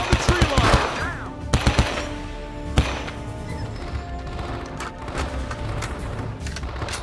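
Machine gun fire at a tree line in the video game Men of Valor, a quick burst of close shots followed by a second burst and a single loud crack over a battle ambience.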